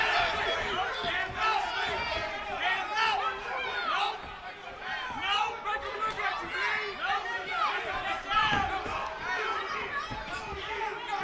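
Boxing crowd on its feet at a live fight night, a dense roar of chatter and shouting that stays loud and continuous throughout, with excited voices layered over one another and no single speaker standing out.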